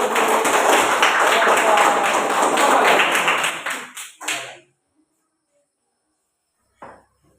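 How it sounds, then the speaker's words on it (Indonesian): A classroom group of students claps after a math discussion presentation, a dense burst of close applause that fades out after about four seconds, followed by near silence and a brief late patter. "Oke, tepuk tangan dulu."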